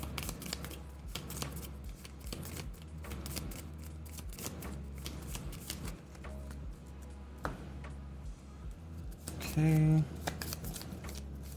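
Playing cards for a GI Joe deck-building board game are shuffled by hand in quick, crisp riffles and taps. A person talks over the shuffling, which ends in a brief pause.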